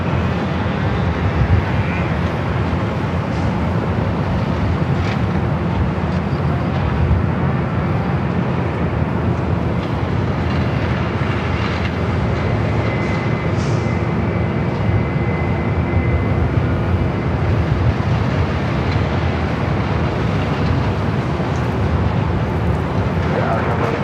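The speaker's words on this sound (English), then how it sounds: "JetBlue heading to JFK, flight 524. It's an A321." JetBlue Airbus A321 airliner at Los Angeles International Airport, a loud continuous broadband jet roar with a low rumble that holds steady throughout, heard from outdoors nearby.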